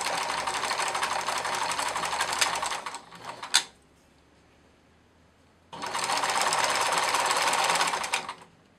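Sewing machine stitching a seam on a plush otter, running steadily for about three seconds, pausing briefly, then starting again for another stretch; close and fairly loud, with no talking.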